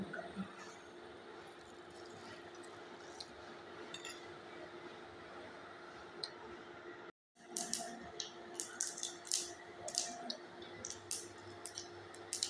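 Mustard seeds spluttering and popping in hot ghee in a pan, heard as a steady crackling hiss with scattered sharp clicks that grow denser and louder after a brief gap, with no talking.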